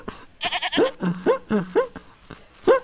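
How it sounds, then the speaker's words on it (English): Goat bleating up close, a string of loud, wavering cries in quick succession with short gaps between them. "This is our Christmas goat that I bought."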